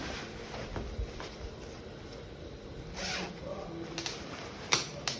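A zipper being fitted to palazzo trousers is pulled and handled close by in short scraping bursts, with light rustling and small clicks between them.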